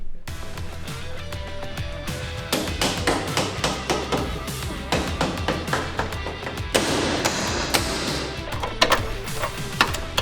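Tapping and knocking ring out while a new trailing arm goes into the rear suspension of a 1987 Chevrolet IROC-Z Camaro, a run of sharp close metallic hits, irregular at first and then coming in quicker bursts over a steady low background.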